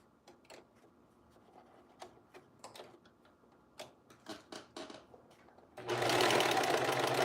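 A sewing machine hems a pair of pants on a zigzag stitch setting: scattered ticks and clicks come first, then the machine breaks into a loud, steady whirring run of stitching close by.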